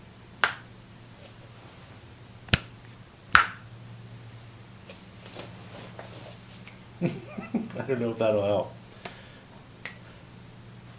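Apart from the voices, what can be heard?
finger snapping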